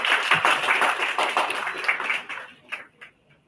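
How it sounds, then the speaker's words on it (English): An audience at a live international student film festival gives a round of applause, with distinct claps fairly close and loud at first, then thinning out and fading to a few scattered claps. "Can we have a huge round of applause?"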